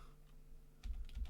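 Fast, close clicking of computer keys in a rapid burst, typed while building a game, starting abruptly after a quiet stretch and carrying on to the end.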